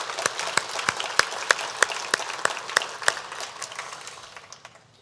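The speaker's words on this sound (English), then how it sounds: "A quick round of applause for all of our students here today." An audience at a Maine business breakfast forum applauds students, giving about ten strong, evenly spaced claps that stand out clearly before fading into softer scattered clapping.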